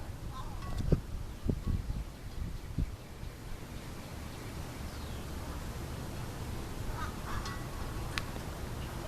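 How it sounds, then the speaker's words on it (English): A few short, harsh bird squawks ring out near the start over a constant outdoor noise bed, then only faint chirps remain. "There's that bird squawking again."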